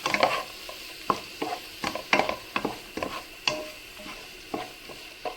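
Carrot, onion and green chili sauté in a pan for biryani: a soft, steady sizzle under irregular clinks and scrapes of a spatula stirring the vegetables, close by and with no voices.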